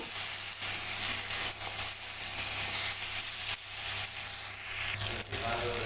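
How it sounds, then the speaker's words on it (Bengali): Taro is stirred with spices and salt in a hot pan, making a steady, close sizzle with occasional soft scraping throughout. "মশলার সাথে নুনের সাথে ভালো করে কচু মিশিয়ে নিতে হবে।"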